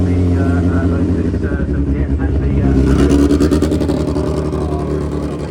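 A race car engine hums and revs steadily at the Goodwood Festival of Speed 2025, loud and continuous, while a commentator talks over it throughout.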